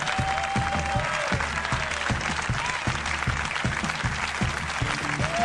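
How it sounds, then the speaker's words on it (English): A comedy club audience applauds the arrival of comedian Mitch Hedberg on stage, producing steady, dense clapping that stays loud and continuous throughout with some cheering mixed in. "It's very cool of you to applaud for me."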